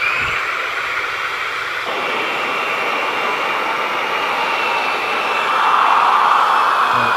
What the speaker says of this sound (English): So the buffing is done.